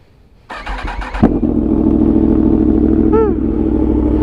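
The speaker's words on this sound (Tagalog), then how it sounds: "sound check natin. SC Project yung exhaust sa MT-10" Yamaha MT-10 SP crossplane four-cylinder motorcycle with an SC Project exhaust starts up with a loud blip, then settles into a steady, rumbling idle, with a brief rising rev near the end.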